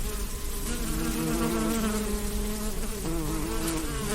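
Close, steady buzzing from a swarm of bees, continuous and fairly loud throughout, with no voices.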